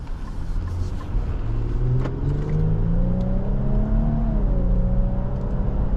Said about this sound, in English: that twin turbo V6 operates very well, and it sounds like a Q50 Red Sport